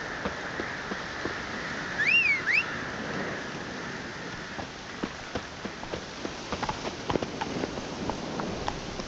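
Horse hooves trotting in The Witcher 3 over a rainy backdrop, soft repeated clip-clop steps, mid-distance and fairly quiet, with a brief chirping sound early on.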